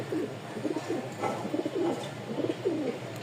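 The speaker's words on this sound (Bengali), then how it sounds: "এখানে 2 পিস কবুতর আছে" Red and black gorra pigeons, a Rajshahi flying breed, coo in soft repeated rolling phrases close by, with faint background noise and no speech.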